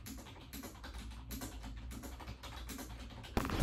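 Steady typing on a computer keyboard, a dense run of quick key clicks close by that continues throughout with no talking, growing a little louder right at the end.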